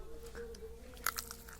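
Dried jujube berries (kol) bitten into, giving a brief crunchy crack of a few bites near the middle, close and fairly quiet against a low steady hum.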